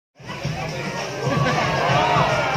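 A large crowd at an elephant show in Asia roars and cheers loudly and steadily, the noise swelling louder in the second half, with mixed shouts and chatter throughout.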